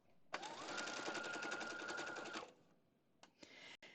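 A sewing machine stitches a quilt block in one fast, even, rattling run of about two seconds, close and clear. It stops and is followed by a few brief taps and short machine bursts.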